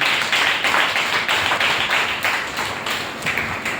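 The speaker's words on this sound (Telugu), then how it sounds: "చప్పట్లు దేవునికి" A congregation at a Christian worship gathering claps for God, a dense, loud wash of many hands with a steady rhythmic pulse running through it, continuous for several seconds and fading slightly toward the end, with no one speaking.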